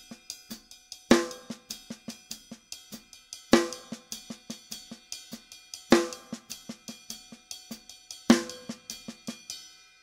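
Drum kit playing a funky bembe bell pattern built from a double paradiddle, crisp repeated strokes in a steady cycling rhythm with a loud accented hit roughly every two and a half seconds, close and dry, no talking.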